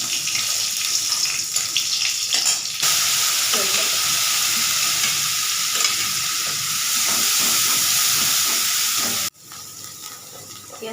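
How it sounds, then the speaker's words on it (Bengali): Fish curry frying in hot oil in a wok, a loud continuous crackling sizzle that holds steady before cutting off abruptly near the end, then resuming more quietly. "কড়াতে তেলটা গরম করে দিয়েছি, তবু মাছগুলো যেন আটকে যাচ্ছে না। মাছের তরকারিটা বসিয়ে দিই, দিলাম"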